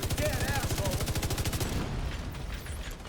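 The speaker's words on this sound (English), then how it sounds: "You just shoot at it all guys." Rapid automatic gunfire rattles in a video game, a fast loud burst of evenly spaced shots that stops after under two seconds and leaves a fading echo.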